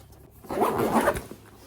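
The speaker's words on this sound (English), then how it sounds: "There's also a front zipper pocket as well that you can access from the inside as well." A YKK zipper on a travel duffel bag is pulled in one quick, close, loud rasping run lasting under a second, with quiet before and after.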